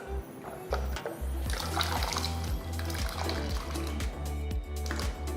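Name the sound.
water poured into a cooking pot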